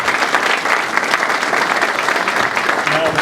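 Audience applause fills a press conference announcing an Amazon fulfillment center in Tracy, California, steady and dense clapping from a sizable crowd that holds at an even level throughout, with no one speaking over it.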